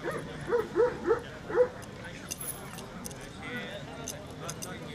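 A dog gives a few short barks and yips close by at a dog show in Denizli, followed by jangling and handling sounds while people speak nearby.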